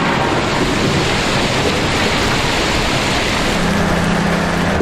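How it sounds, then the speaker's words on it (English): Autumn rain on a muddy battlefield, a loud, dense and unbroken wash of falling water that holds steady throughout with no voices. "Autumn rain turned the battlefield into a swamp."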